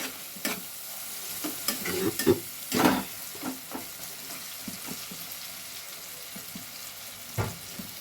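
A ginger spice paste for duck egg curry fries in oil while being stirred: a steady sizzle runs throughout, broken by scattered spatula scrapes and a louder cluster of stirring around the middle, with no voices.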